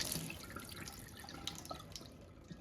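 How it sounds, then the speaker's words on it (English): Water trickles and drips from sprouted chicken feed through a mesh lid onto a tray, a soft close patter with small irregular drops. "I just put it upside down on my tray so that the water can continue to drain out."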